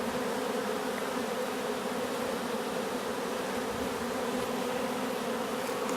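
A dense, steady buzz of many honeybees swarming close by during a colony removal, continuous and loud with no voices.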